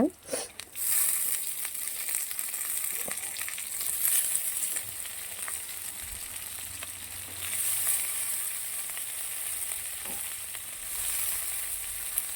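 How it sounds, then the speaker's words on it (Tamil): Ingredients for sundakkai kuzhambu fry in a pan with a steady, close sizzle and occasional stirring scrapes running throughout, with no talking. "இது கூட போட்டுட்டோன்னா கொஞ்சம் பொரியுங்க"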